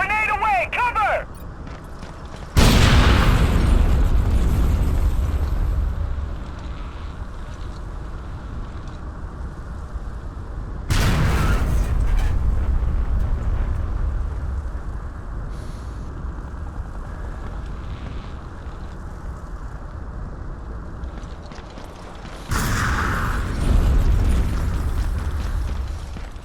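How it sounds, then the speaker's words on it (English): Grenade explosions in Ghost Recon Advanced Warfighter on the original Xbox, three heavy booms spaced roughly ten seconds apart, each followed by a long rumbling decay, with voices calling out between them. "Grenade away! Cover!"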